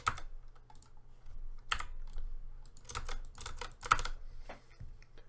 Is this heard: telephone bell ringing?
no